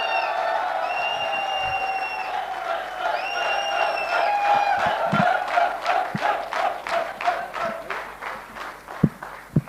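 A crowd breaks into applause that swells and continues, with scattered cheering and shouts over the clapping, ending in a few sharp thuds.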